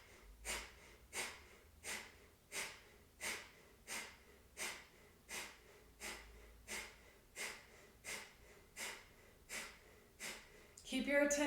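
Deep, steady breaths during a vinyasa yoga flow, about thirteen even cycles spaced under a second apart, close and clear, ending with a brief rustle.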